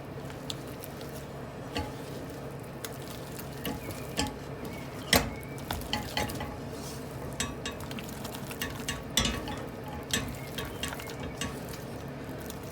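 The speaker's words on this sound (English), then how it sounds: "We're going to add our Pitchfork Cheddar. And carefully, just over the heat, just melt that through the sauce." Pitchfork Cheddar being stirred into a sauce over the heat, soft sizzling with scattered wet taps and scrapes from the stirring, close and quiet, with no talking.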